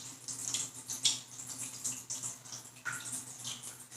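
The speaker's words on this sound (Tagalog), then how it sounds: "Now we're going to form the proper hand hygiene by washing our hands with clean water and soap." Hands washed with clean water and soap under a running tap make a quiet, uneven splash and trickle that swells and fades in short surges.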